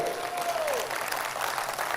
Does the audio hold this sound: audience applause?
yes